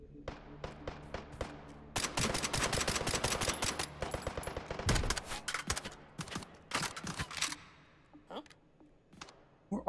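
Rapid assault rifle fire in the VR shooter Hot Dogs, Horseshoes & Hand Grenades comes as dense, loud bursts of sharp shots with mechanical clicks between them, while a voice talks intermittently.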